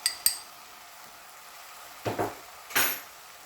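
A spoon stirs apple pie egg roll filling with a teaspoon of lemon juice in a bowl, giving a few short clinks and two brief scraping bursts near the start and middle, then a longer scrape, close up with no talk.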